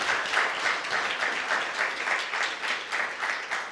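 An audience at a Drupal community conference keynote panel applauds the panelists, a dense, steady crowd clapping that holds evenly loud throughout.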